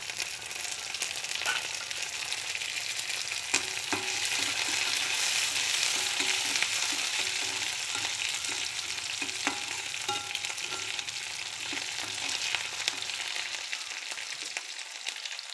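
Dried red chilies and green chilies frying in hot oil for a tamarind rasam, a steady close sizzle with crackling bursts and occasional stirring scrapes throughout, no voices.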